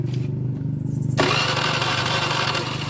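A motorcycle engine is cranked with the electric starter during an ignition fault check, a close, loud, steady rhythmic grinding whir that continues throughout without catching.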